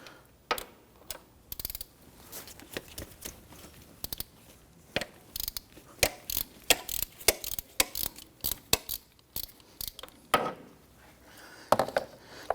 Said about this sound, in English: We're going to go ahead and use our ratchet and our 14mm shallow socket to go ahead and loosen.